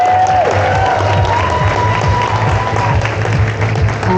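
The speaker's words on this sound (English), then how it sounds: "Can we get a round of applause?" Loud crowd applause and cheering at a Comic Con Honolulu cosplay competition as contestants are welcomed, continuous close clapping with scattered shouts.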